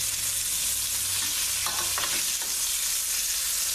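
Chicken thighs cooking slowly in a skillet, a steady hissing sizzle throughout with a few soft stirring scrapes near the middle.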